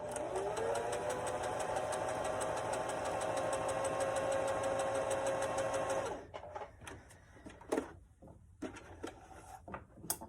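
A sewing machine set to stitch length 4 runs fabric through in a steady, even hum for about six seconds, then stops, leaving a few light clicks and handling noises.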